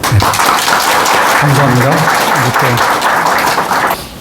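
Sustained welcoming applause from a Buddhist congregation filling a temple dharma hall during a Sunday service, steady dense clapping that fills the space for about four seconds, with a voice speaking briefly over it.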